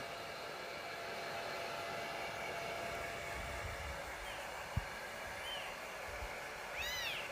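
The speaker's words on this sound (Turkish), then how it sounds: "Tabi fön makinesini çok sıcağa almadım arkadaşlar." A hair dryer on a low heat setting blows with a steady, even whoosh throughout, close by, drying a cat, which gives a few faint meows near the end.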